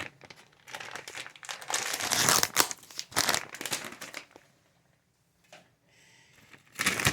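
Plastic packaging of Great Value cheese torn and crinkled open by hand, loud crackling bursts for several seconds, then a pause and a final short rustle.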